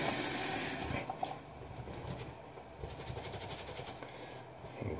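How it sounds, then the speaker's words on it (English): A Simpson Duke 3 shaving brush is rinsed under a running tap, making a steady close rush of water with splashy surges as the brush moves through the stream. "Let me just rinse this brush off quick."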